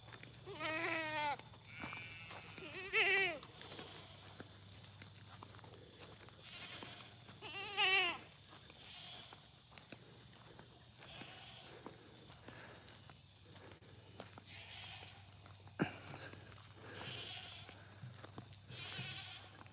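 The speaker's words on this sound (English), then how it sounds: "Hey, sheep, sheep, sheep, sheep, sheep, sheep," Sheep bleat repeatedly from a short distance outdoors on a farm, a few wavering calls over steady insect hum and light rustling, with a sharp knock near the end.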